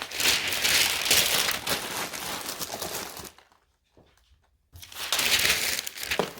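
Packing paper crumpled by hand and stuffed into the gaps of a shipping box around an antique measuring cup, a loud dense crinkling that stops briefly and then resumes, with no talk over it.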